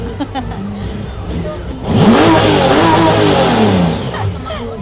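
An 1,800cc motorbike engine idles, then revs up hard and holds a loud, rising roar before easing off, with voices murmuring in the background.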